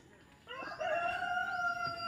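A rooster crows once at a chicken coop, a long drawn-out cock-a-doodle-doo rising and holding, fairly close, with faint farmyard background.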